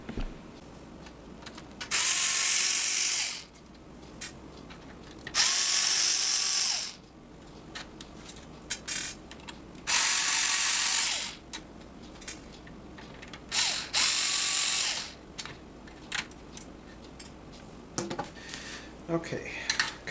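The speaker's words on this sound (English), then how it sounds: "This will have to be unscrewed from the sled that holds it. Four screws." Four screws backed out of the metal sled holding the hard drive in a TiVo Premiere, each heard as a loud ratcheting, whirring burst of a screwdriver, about four separate runs lasting a second or two, with quieter clicks and handling between.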